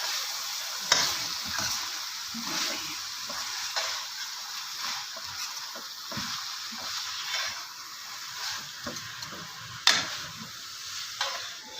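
Chopped fenugreek leaves, potato, carrot and peas are stirred together in a pan, soft irregular scrapes and tosses over a low sizzle, with a couple of sharper clinks, moderately quiet.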